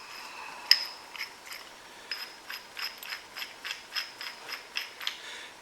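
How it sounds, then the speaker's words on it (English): A ratchet wrench turns a half-inch bolt into an off-road dimple die, giving a close, steady run of about a dozen crisp, evenly spaced clicks after one sharper initial click. "we have essentially a 1/2-inch bolt that is going to thread into here"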